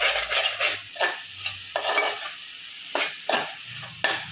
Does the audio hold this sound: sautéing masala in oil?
yes